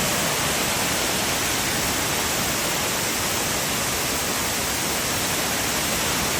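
Dense, steady rushing water roars without pause, a broad hiss filling the scene like a close waterfall, at Thousand Layers Waterfalls.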